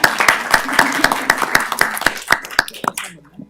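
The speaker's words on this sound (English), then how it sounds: "I think that deserves a round of applause." A small group at a board of directors meeting claps in a round of applause, sharp separate hand claps in a fairly even rhythm close by, thinning out and stopping near the end while voices murmur.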